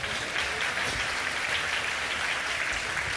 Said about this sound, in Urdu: ذرا دونوں کے لیے تالیاں بجا دیجئے